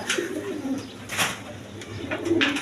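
Pigeons of fancy colored breeds coo in soft, repeated throaty calls, several birds close by, with faint rustling between calls.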